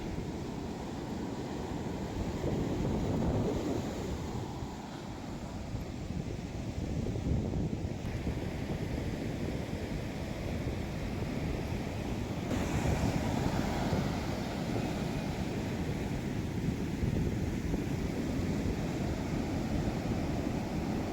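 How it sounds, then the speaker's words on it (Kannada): Rough sea surf breaking on a beach, a steady, loud roar of crashing waves mixed with wind buffeting the microphone, continuous throughout with no voices. "ತುಂಬ ರಫ್ ಉಂಟು ಸಮುದ್ರ"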